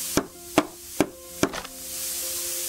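Hammering in the tavern-repair video game Ale & Tale Tavern: four sharp, evenly spaced strikes, close and clear, then a faint ringing tail and quiet.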